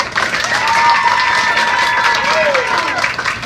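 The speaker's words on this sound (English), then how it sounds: "Everybody clap real big." A crowd at a Pop Warner youth football event claps loudly and steadily for several seconds after a countdown, with a few cheers and voices mixed into the dense applause.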